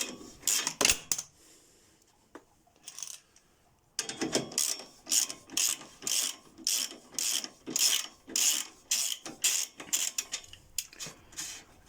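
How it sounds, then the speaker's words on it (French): A 14 mm ratchet wrench loosens screws on a Kymco 400 quad bike, rhythmic ratcheting clicks in repeated strokes, close and crisp, with a brief pause before a long steady run of clicks. "Avec la bonne clé. Là, c'est du 14. Et vous venez desserrer."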